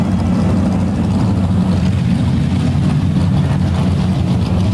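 A heavy truck engine roars loudly and continuously at a tuff truck event at the Bloomsburg Fair, a dense low rumbling exhaust drone with no break.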